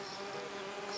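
Mason bee (Osmia rufa) flying close by as it checks nest holes, a continuous faint buzzing hum lasting about a second.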